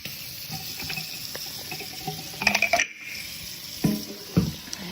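Tap water runs into a soup pot in a home kitchen, a soft steady stream broken by clinks and knocks of cookware, fairly quiet and close, with no speech.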